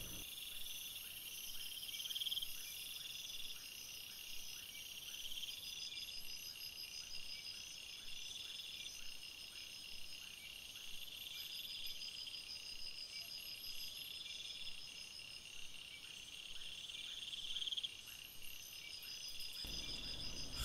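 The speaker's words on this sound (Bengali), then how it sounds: "চারিদিকে ঝিঝি পোকার ডাক ছাড়া আর তেমন কিছুই কানে শোনা যাচ্ছে না" Crickets chirp steadily on a quiet, deserted road at night, a faint continuous pulsing trill with nothing else competing.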